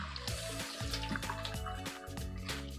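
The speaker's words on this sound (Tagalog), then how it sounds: "Ang una nating huhugasan, lilinisan ay itong ating littuce." Lettuce is rinsed under running tap water in a kitchen sink, a continuous close splashing flow with light dripping and the leaves shifting under the stream.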